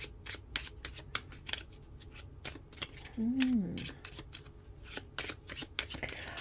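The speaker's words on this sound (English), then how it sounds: "Right, so we're just shuffling for, and there's the beginning." Lenormand and tarot cards being shuffled by hand in a series of crisp, rapid riffling bursts with a quieter middle stretch, close and clear, while a person speaks briefly between the shuffles.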